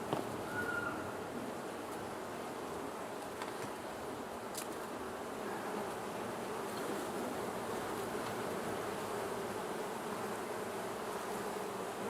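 Honey bees drone steadily in an open hive box, festooning on empty frames, a dense continuous buzz that stays even throughout, fairly quiet and with no voices over it.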